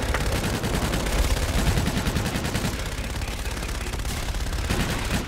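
Sustained air-strike gunfire in Call of Duty: Infinite Warfare, a dense continuous barrage of rapid bursts filling the whole stretch at steady high loudness with no pauses, the firing close and overwhelming.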